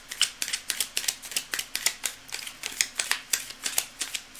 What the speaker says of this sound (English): cards are well shuffled